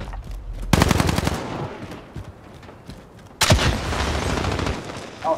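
Automatic gunfire in the survival game Rust, two loud sustained bursts of rapid shots separated by a quieter gap, with a faint thump near the end.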